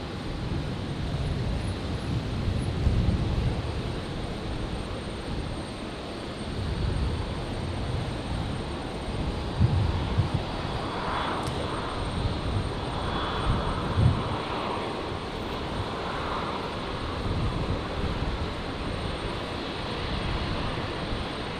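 An airliner takes off from Brisbane International Airport on a stormy night, its engine roar a broad, distant rumble holding steady for about twenty seconds with no voices over it.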